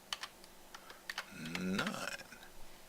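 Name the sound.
typing on a computer keyboard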